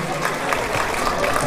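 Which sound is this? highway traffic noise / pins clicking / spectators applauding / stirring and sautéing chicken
spectators applauding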